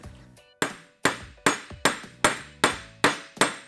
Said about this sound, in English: just basically whack on it until you notice a difference in the sound and the feel as well